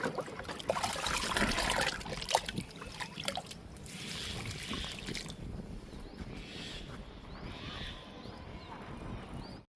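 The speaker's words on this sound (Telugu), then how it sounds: "గన్నేరు మొక్కకి లిక్విడ్ ఇస్తున్నాను." Homemade liquid fertilizer trickling from a container onto a potted oleander plant, a soft continuous pour and splash of water into soil running close and steady throughout, with faint outdoor background noise.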